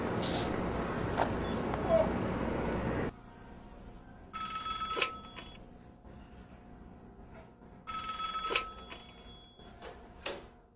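A telephone rings on unanswered in a film scene: two long bursts of bright, trilling bell rings separated by quiet gaps, following a stretch of busy, noisy background at the start.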